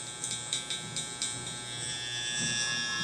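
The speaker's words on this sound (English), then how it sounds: "We're gonna grab our trimmer" An electric hair trimmer for a low taper haircut on curly hair buzzes close by in short bursts at first, then runs as a steady continuous hum.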